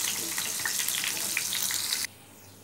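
Pointed gourd frying in oil with a steady, close hiss of sizzle and crackle that cuts off abruptly near the end, leaving quiet room tone.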